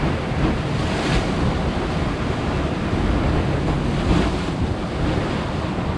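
Rough, rising sea waves crash steadily over rocky shoreline boulders on a fishing outing, a loud continuous surf roar mixed with heavy wind buffeting the microphone.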